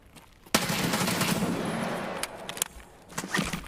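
Automatic gunfire in the game Escape from Tarkov on a raider farming route: a dense, loud burst of rapid shots starting abruptly and sustained for about two seconds, then scattered sharp single shots and a final short cluster.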